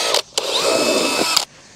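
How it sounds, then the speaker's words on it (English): A power drill whirs loudly and close, boring a hole through a BougeRV CIGS thin-film flexible solar panel in one sustained run of just over a second after a brief trigger blip. "go ahead and drill a hole."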